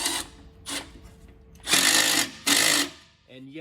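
Power tool tightening the exhaust heat shield clamp on a 2009-or-later Ford F-150: two loud, sustained whirring bursts that start after quieter tool noise, with a brief voice near the end.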